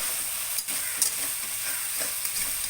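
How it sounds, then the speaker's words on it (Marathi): Village-style chicken frying in a pan, a constant loud sizzle and hiss with occasional scrapes as the pieces are stirred, heard up close and without talking. "अजून फ्राय होऊन द्या चांगले ठीक आहे बघा आता हे आपल्याला पुन्हा एकदा असं तुम्ही हलवायचं"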